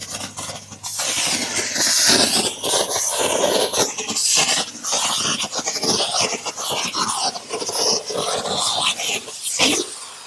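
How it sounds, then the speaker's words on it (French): A steam cleaner spraying wet steam onto a car's plastic bumpers and underbody: a continuous, loud airy hiss with sputtering, fluttering bursts, close up and without talk. "Vapeur humide."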